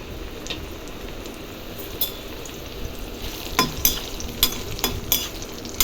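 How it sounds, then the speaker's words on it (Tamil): Meal maker soya chunks sautéing in hot oil with fennel and cumin, a steady sizzle broken by sharp clinks and scrapes of a spoon stirring the pan, with no talk. "இந்த இப்படி எண்ணெயிலேயே நல்லா வதக்கணும்."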